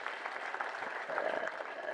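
Steady, moderately faint applause from a congregation at a church memorial service, continuous clapping with no speech over it.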